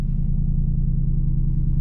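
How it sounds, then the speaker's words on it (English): A Ram TRX pickup truck engine idles steadily, a deep low rumble that holds constant throughout with nothing else heard. "All right, truck is on."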